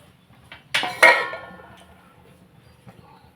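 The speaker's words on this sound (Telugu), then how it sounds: "మూత పెట్టేస్తాం" A metal lid clanks down onto a cooking pot of fenugreek tamarind stew: two quick ringing clinks close together, then a fading metallic ring in a quiet room.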